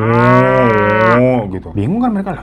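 Cattle on a rural farm lowing loudly, one long sustained moo followed by a second shorter, rising call, with brief talk underneath.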